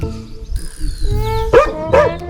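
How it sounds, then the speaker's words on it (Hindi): A dog barks near a house in the Morni Hills as rain approaches, giving two loud close barks in quick succession over a steady droning background. "ये भाई पता नहीं मेरे से क्यों नाराज है, बहुत देर से भौंक रहा है"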